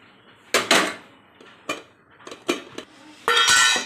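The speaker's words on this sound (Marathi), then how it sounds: "कुकर चांगला थंड झाल्यानंतर आपण कुकरचं झाकण काढून" A pressure cooker lid is removed after cooling while steaming rice-flour dough for ukdiche modak, giving several sharp metallic clanks and scrapes close by, spaced irregularly, with a longer rattling clatter at the end.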